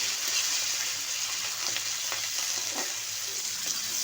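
Green flat beans fry in a pan with salt and turmeric, giving a steady close hiss of oil with light crackles and a few faint stirring scrapes.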